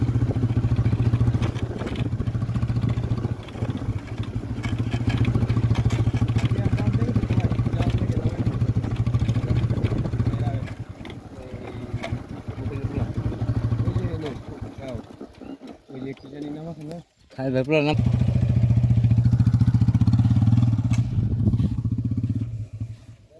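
A motorcycle engine drones steadily nearby, dipping briefly before roaring back up, with people talking over the noise.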